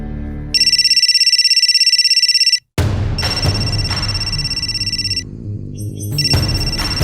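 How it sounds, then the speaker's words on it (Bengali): A mobile phone rings loudly and close in a crime drama scene, its bright electronic ringtone repeating in steady bursts with a brief gap between phrases. "রাবিয়ার ফোন স্যার"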